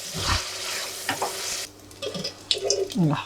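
Dry prawns fry in oil, tossed and stirred with a loud sizzling rush at first, then quieter crackling with brief utensil scrapes and clatters, close to the pan.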